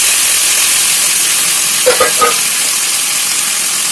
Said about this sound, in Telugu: ఇప్పుడు మనం ఉడకబెట్టి ఆయిల్ వేసుకున్నాం, శనగలకి కలుపుతున్నాం.